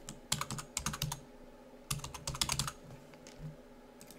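Someone types yearly expenditure figures into a LibreOffice Calc chart on a computer keyboard, with two quick flurries of close, crisp keystrokes and a few scattered taps after them.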